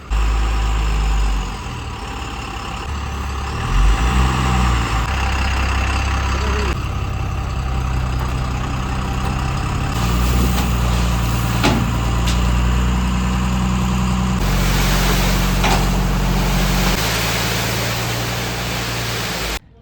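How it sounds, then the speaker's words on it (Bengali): Dumper truck engine idling and rumbling close by while delivering and unloading a load of sand, a steady low drone with shifting mechanical noise and a few scraping bursts over about twenty seconds. "এই এখন এক ডাম্পার বালু আনাইলাম, বালুটা ফেলে দিই।"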